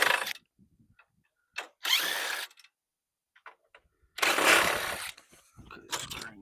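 A power tool whirs in several short separate bursts, taking small screws out of an aluminum storm door screen, with quiet clicks and handling sounds in the gaps.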